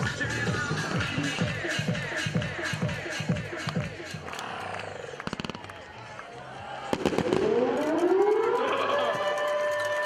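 Fireworks at a high school varsity football game crackle and pop amid a noisy crowd and a siren-like whine, with a rising sustained tone toward the end and a dense, busy outdoor stadium mix throughout.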